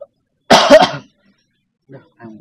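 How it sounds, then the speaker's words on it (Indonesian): A single close, loud cough burst of a few rapid hacks, followed by silence and then faint, brief voice sounds. "Udah ang batuk deh."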